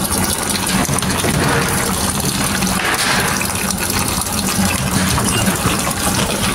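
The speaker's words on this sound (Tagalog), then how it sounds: "Tignan natin kung mayroong tubig na lalabas dyan." Water gushes out of a pump in a steady, loud, unbroken rush of splashing liquid that lasts throughout, with no one talking.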